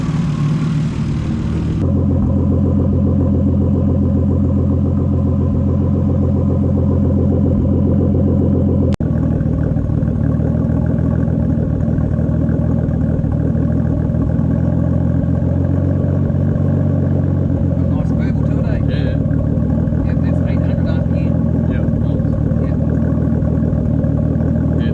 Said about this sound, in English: just comes back to a nice steady, 800 RPM idle